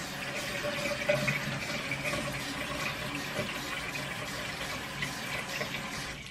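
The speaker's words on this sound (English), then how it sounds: "let me wash my face" Running tap water in a bathroom sink while a face is washed, a steady close splashing and gushing flow lasting throughout with small irregular splashes, no talking.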